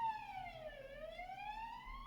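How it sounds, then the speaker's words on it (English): An ambulance siren passes outside. Its single wailing tone sweeps down and then back up, faint and distant, over a low background hum. "there's an ambulance going past"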